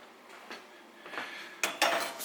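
A pan holding a solid block of homemade lasagna clatters into a home oven, with soft metallic scrapes and two sharp clanks near the end, close by and fairly quiet.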